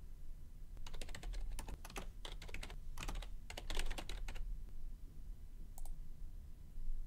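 Fingers type quickly on a computer keyboard in bursts of crisp, close clicking keystrokes, with short pauses between runs and a final isolated click, quiet overall with no speech.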